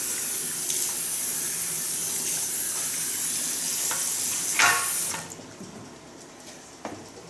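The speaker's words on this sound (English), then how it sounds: "I'm going to wash the hair with the deep cleansing shampoo" Water runs steadily from a salon tap during a shampoo hair wash, a close hissing stream that cuts off partway through, leaving a quieter room with a few faint clicks.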